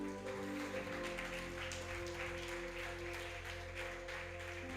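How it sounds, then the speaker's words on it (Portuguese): A church congregation applauding, a dense, steady wash of clapping that runs the full length and blends with sustained keyboard music. "Aplauda bem forte o nome do Senhor"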